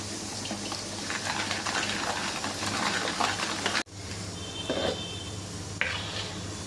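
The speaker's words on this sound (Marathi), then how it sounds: "आणि छान मिक्स करून घेऊया" Gulgule batter with baking soda is stirred in a bowl close up, giving a continuous wet, sloshing mixing sound, followed by a sharp knock and a quieter stretch of stirring.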